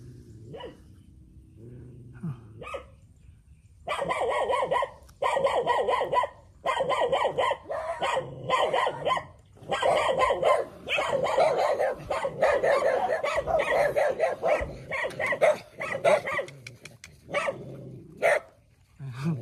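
Dogs bark repeatedly in loud, close bursts with some growling and yips, a busy stretch of barking broken by short pauses, with voices talking among them outdoors.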